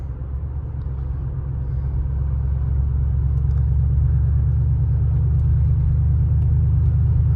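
Steady low engine drone from inside a 2012 Ford F-150 pickup with a catback exhaust at around 2,000 rpm, a constant deep hum that swells slightly after a couple of seconds, with no voices.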